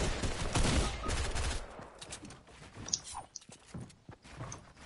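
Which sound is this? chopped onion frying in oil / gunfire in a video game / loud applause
gunfire in a video game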